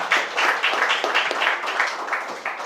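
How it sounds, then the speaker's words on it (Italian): A small audience claps for a speaker at a startup event, with a few distinct, uneven bursts of clapping, moderately close. "un applauso a Franca."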